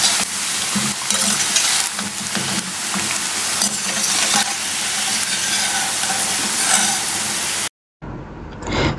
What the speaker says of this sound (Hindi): मैं इसमें राई का तड़का बनाऊंगी